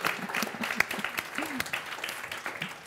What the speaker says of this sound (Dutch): En een applaus voor jullie natuurlijk.